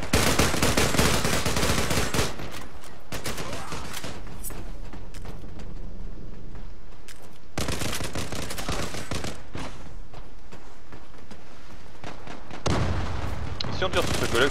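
Bursts of rapid automatic gunfire and heavy shots from the online shooter game Zula crackle loudly and nearly continuously, with dense volleys at the start, middle and end and brief lulls between.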